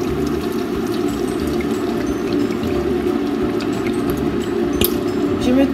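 Canned coconut milk pours steadily into a pan for a sauce, a continuous liquid wash with faint clinks, close and fairly loud throughout.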